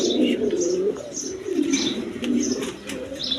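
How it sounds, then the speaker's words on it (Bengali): A pair of king pigeons coo in low, throaty repeated phrases close by, with a few faint chirps and brief wing flutters mixed in. "দর্শকবৃন্দ এইখানে এক পেয়ার কবুতর আছে কোয়ালিটি সম্পন্ন কবুতর আপনার কিং কবুতর"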